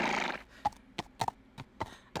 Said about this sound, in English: Oh my god! That horse is loud.